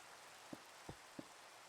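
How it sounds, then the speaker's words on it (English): Rain falls in the video game Minecraft, with a soft, steady patter and three louder drops, faint and continuous throughout. "Back out into the rain."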